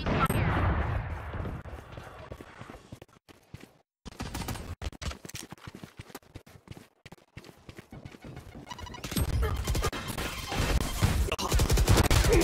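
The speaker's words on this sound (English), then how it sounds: "Enemy fire." Gunfire rings out in the video game Valorant: rapid bursts of clattering shots, then a brief silence and more sporadic cracks, ending in a dense barrage.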